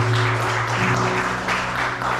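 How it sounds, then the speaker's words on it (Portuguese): Church congregation clapping loudly in praise, a broad continuous wash of applause over a low sustained musical drone. "Vamos aplaudir bem forte o nome do Senhor."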